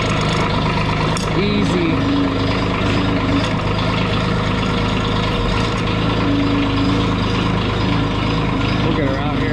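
Diesel engine with glow plugs, near a Hurst hydraulic cutter and an auger, rumbling steadily at idle, loud and close, with a brief spoken word over it.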